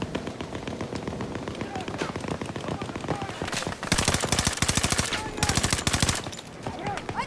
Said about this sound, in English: Enemy shot from the right.